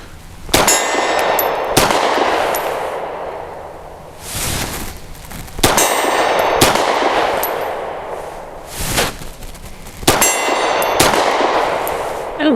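Grand Power P1 Ultra pistol firing at steel targets around 30 yards away, sharp loud shots each followed by a ringing metallic clang, coming in spaced pairs and groups with pauses between.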